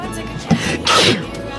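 A single sharp human sneeze bursts out over the quiet background of a bar where drinks are being ordered, close and loud, with faint murmuring before and after.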